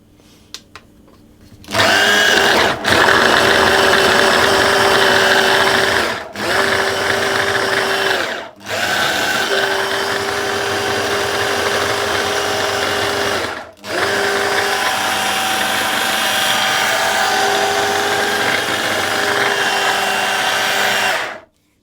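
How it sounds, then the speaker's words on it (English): A food processor blitzes butter into flour for Linzertorte pastry, a loud steady motor whir running in several bursts with brief pauses between pulses, no talking. "I'm going to blitz that until the butter has all been mixed into the flour"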